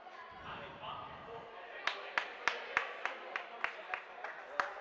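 A stadium crowd at a women's dodgeball pool match between France and the Czech Republic claps in a steady unison rhythm of about ten sharp, evenly spaced beats, following a brief murmur of talk.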